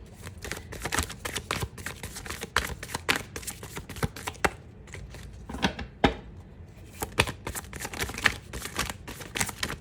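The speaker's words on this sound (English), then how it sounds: "Let me shuffle." Cards being shuffled repeatedly up close, a flurry of quick papery riffles and taps with brief pauses between bursts.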